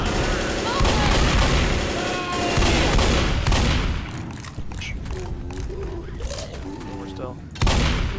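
Shotgun blasts and rapid gunfire in a zombie-shooter video game, a dense, loud barrage of repeated shots with booming low end, thinning out briefly before another burst near the end, with speech-like game sounds mixed in.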